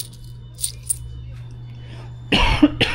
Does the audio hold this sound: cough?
yes